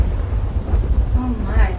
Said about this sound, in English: Oh my, what a storm.